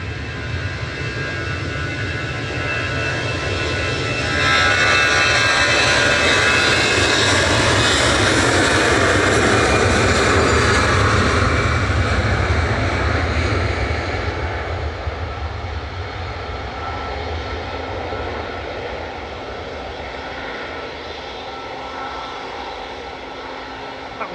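An Air France Airbus A320 departs Manchester Airport for Paris Charles de Gaulle, its engines swelling into a loud broadband jet roar that peaks early and then slowly fades as it climbs away.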